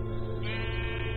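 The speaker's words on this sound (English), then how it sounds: "A sheep?" Sheep bleating in the video game Minecraft Story Mode, a single drawn-out wavering bleat heard up close, loud and continuous for about a second with no talk over it.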